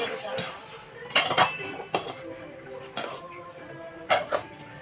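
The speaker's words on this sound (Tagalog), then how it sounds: "Paghugas ng ating plato" Dinner plates and cutlery being washed by hand in a home kitchen, with sharp clinks and clatters of dishes knocking together at irregular intervals over steady running-water noise.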